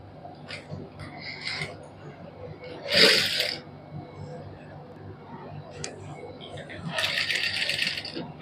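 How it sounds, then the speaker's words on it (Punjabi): A sewing machine stitches lace onto a printed suit, a steady mechanical whir with bursts of faster running, close up under someone speaking Punjabi. "ਇਸ ਤਰ੍ਹਾਂ ਸਾਰਿਆਂ ਦੇ ਉੱਪਰ ਹੌਲੀ ਹੌਲੀ ਸਿਲਾਈ ਲਾ ਲਾਂਗੇ"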